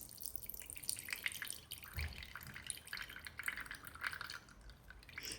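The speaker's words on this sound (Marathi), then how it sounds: "हे बघा, पाणी निघतं आत्तापासून याच्यामध्ये." Water drips and trickles from a tightly tied cloth bundle of fresh homemade paneer in a kitchen, a steady irregular patter of small droplets, close and fairly faint, with no talking.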